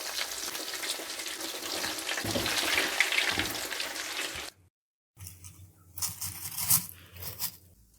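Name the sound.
potato egg kababs frying in oil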